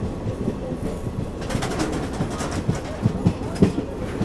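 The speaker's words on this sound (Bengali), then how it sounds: "আর আমাদের ট্রেনটা কিন্তু এখন তোমার সাদুরা রেলওয়ে স্টেশন ডিপারচার করছে" A passenger train pulling out of Sadura railway station on the Srinagar–Banihal line in Kashmir: a steady low rumble with rhythmic wheel clicks growing more distinct, and faint bird calls in the background.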